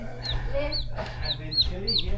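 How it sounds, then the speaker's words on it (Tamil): Broiler chicks and hens cluck and chirp in a farmyard, several short calls rising over a steady low hum, with no talk. "இந்த கோழி குஞ்சுகளுக்கு நன்றி."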